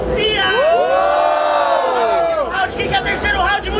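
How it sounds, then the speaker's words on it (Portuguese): Live crowd at a freestyle rap battle in Santa Catarina cheering and shouting loudly, a sustained roar with rising whoops and yells that holds steady and then breaks into scattered shouts. "Barulhos, barulhos pra quem gostou das rimas do Derek!"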